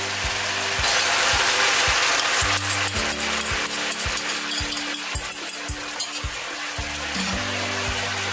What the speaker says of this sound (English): now I'm gonna put in the sauce